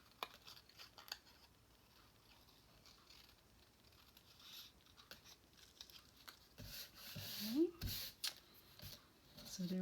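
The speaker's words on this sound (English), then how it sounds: "Very simple to clip them off of the die cut." Scissors snip die-cut paper seashells free along printed lines, a few faint cuts and rustles near the end, quiet and close over low room noise.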